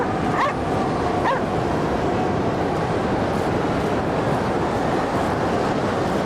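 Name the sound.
dogs barking in the video game Cryostasis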